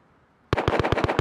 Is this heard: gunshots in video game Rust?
yes